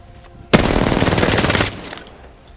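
A single sustained burst of automatic fire from a gun in the video game Apex Legends, loud and close, lasting about a second after a quiet start and then cutting off into near silence.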